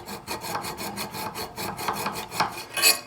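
A spokeshave scrapes across a wooden archtop instrument surface in quick, even back-and-forth strokes, a close, dry rasping rhythm about five strokes per second that grows a little brighter at the end, with no voices.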